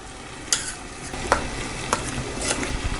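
Milk is poured into mashed rice and stirred with a spoon, giving a soft wet swishing with a few light scraping clicks against the pot, close and steady.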